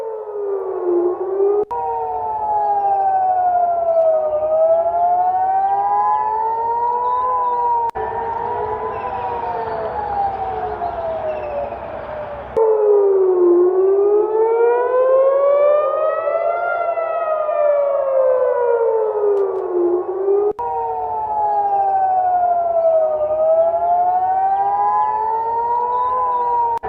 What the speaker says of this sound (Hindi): लगातार यरूशलेम में सायरन बज रहे हैं।